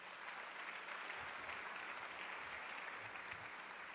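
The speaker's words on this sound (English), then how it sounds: "So a round of applause for them," Steady audience applause fills a business luncheon room, dense and continuous clapping from a crowd, moderately distant and even throughout.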